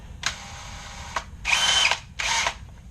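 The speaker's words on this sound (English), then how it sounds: "make sure when you turn the drill, you turn it into the tighten position." A power drill spins a dryer vent cleaning rod clockwise in the tightening direction, giving three separate whirring bursts with short pauses between them. It is close and loud, and no one talks.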